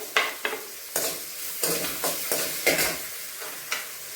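Ginger garlic paste fries in a pan for capsicum palya, a steady sizzle broken by repeated scraping stirs of a spoon against the pan, close and fairly loud with no talking.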